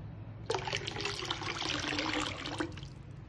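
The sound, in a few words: water being poured into a pot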